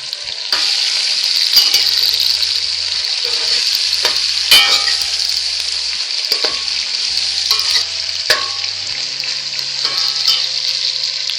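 Onions and bell pepper frying in a pan for fried red beans: a loud, bright, continuous sizzle with scraping stirs and clinks throughout, no voices.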